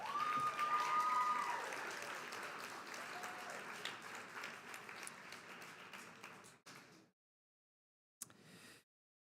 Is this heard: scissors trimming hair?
no